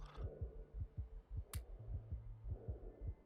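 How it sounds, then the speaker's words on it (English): A heartbeat sound effect from a space exploration video game pulses in a steady rhythm, low soft thumps in pairs repeating roughly every half second, close and muffled, with no talking. "I don't want to hear the heartbeat and the heavy breathing"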